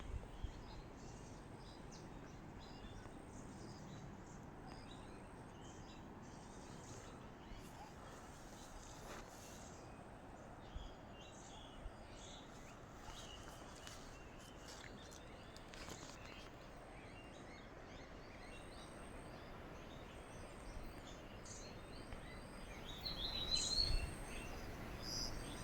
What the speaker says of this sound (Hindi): ताकि शायद आप कुछ पक्षियों की आवाज़ें और नदी की आवाज़ सुन सकें।